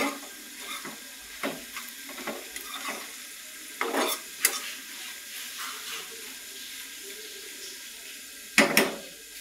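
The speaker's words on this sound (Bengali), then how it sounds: "এবার একটু দিয়ে দিব টমেটো কুচি, একটু নেড়ে ছেড়ে দেবো।" Shrimp with taro stolons and chopped tomato stirred in a pan, with a soft sizzle under irregular scraping strokes of a spatula and a few sharp clacks against the pan, quiet and close.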